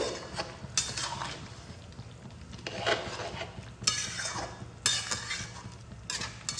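Fried papaya stirred into chicken curry with water gives a close, wet scraping and swirling with a few louder spoon strokes against the pot over a soft background sizzle.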